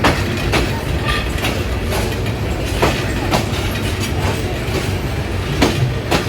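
Riding aboard the Jayantika Express on the Dhaka–Sylhet line, a steady rumbling roll is broken by regular clickety-clack wheel beats over rail joints, loud and continuous throughout.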